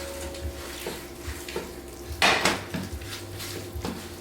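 Cavatelli pasta being mixed with broccoli pesto in a pot, with soft scraping and clinking of a utensil against the metal and one louder clatter midway, close and alone.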